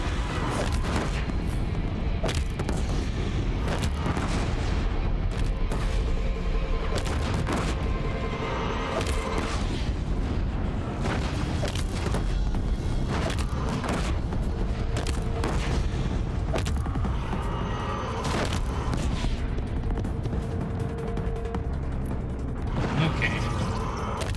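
Sticky bombs go off in the video game Horizon Zero Dawn, a run of repeated booming blasts and mechanical clatter over a busy, loud bed of game sound.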